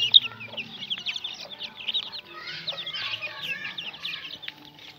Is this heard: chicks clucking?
yes